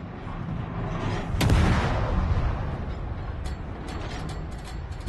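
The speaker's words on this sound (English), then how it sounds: "Keep my secondaries on them" Secondary battery guns fire in a naval video game, a loud crack followed by a rumbling boom, then a run of sharp, lighter shots over continuous low engine and battle rumble.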